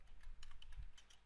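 Light, quick keystrokes on a computer keyboard come in a faint, irregular patter while HTML heading tags are typed into a Bootstrap web page.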